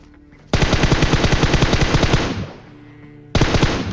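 Automatic gunfire rattles in a video game shootout: a loud, rapid burst of shots that tails off, then a second burst starts abruptly near the end.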